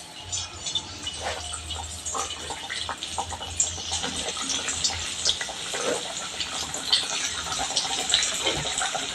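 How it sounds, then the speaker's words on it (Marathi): Dill (shepu) vadi pieces deep frying in hot oil, a steady loud sizzle and crackle of bubbling oil running continuously with no talk. "तळणीत सोडतीये आहे"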